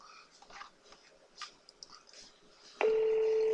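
A telephone dialing tone that begins abruptly and holds as a steady, loud electronic tone after a stretch of faint rustling and small noises in a quiet room.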